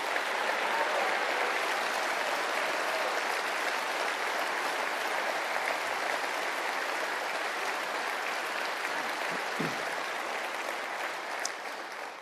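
Steady, dense audience applause filling a Liberal Democrat autumn party conference hall, continuous for several seconds and tapering only slightly toward the close.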